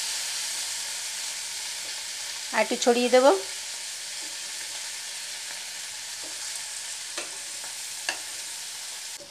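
Boiled bitter gourd and pumpkin fry in a pan over medium-high flame, giving a steady soft sizzle throughout, with a brief burst of louder stirring or scraping early on and a few faint clinks; someone speaks briefly.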